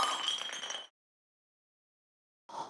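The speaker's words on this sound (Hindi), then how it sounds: "मेरा फेवरेट ग्लास कैसे टूट गया" A drinking glass breaks while dishes are being washed at home, a short bright shatter with ringing clink that cuts off abruptly, followed by silence and a brief faint tail of sound.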